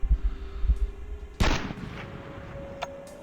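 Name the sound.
sniper rifle shots in video game Sniper Tactical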